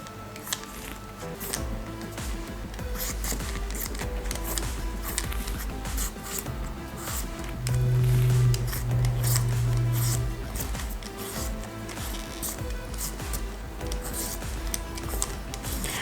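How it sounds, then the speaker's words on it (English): Potato being peeled by hand, a continuous close scraping and rasping of the peeler against the skin, steady throughout with no talking. "I'll go ahead and peel my potato."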